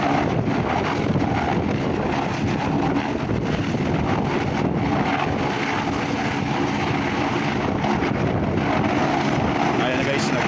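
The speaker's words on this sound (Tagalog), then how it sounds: "So mag-take off ulit yung helicopter na yan guys." A helicopter lifts off close by with a loud, steady broadband roar and wind buffeting the microphone that never lets up, while voices talk faintly underneath.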